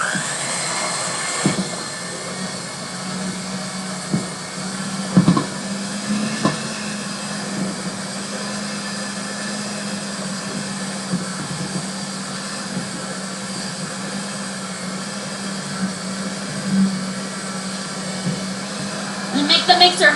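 An electric kitchen mixer whirs with a steady mid-pitched hum as it beats eggs and chocolate, with occasional clinks and bumps against the bowl.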